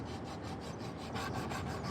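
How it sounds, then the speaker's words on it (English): Sandpaper rubs steadily over a handmade wooden spoon, a continuous close-up rasping scrape with a faint back-and-forth pulse and no talk. "Work on some sanding a bit more."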